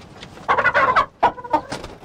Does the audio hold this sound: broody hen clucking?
yes